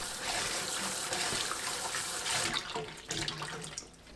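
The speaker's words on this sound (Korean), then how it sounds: "물로 3번 헹궈내세요." Dried jujubes rinsed under a running kitchen tap, a steady close splash and gurgle of water in the sink that shifts and sloshes toward the end, with no talking.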